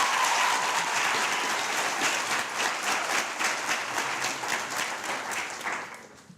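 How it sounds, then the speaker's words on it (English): Sustained audience applause at a university inter-regional moot court competition awards ceremony, a dense wash of many hands clapping that holds steady and then tapers away near the end. "A substantial round of applause, ladies and gentlemen, please."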